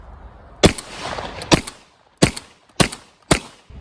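A Remington 11-87 semi-automatic 12 gauge shotgun fires Federal shells in five sharp, loud reports spaced roughly half a second to a second apart, each blast decaying quickly outdoors.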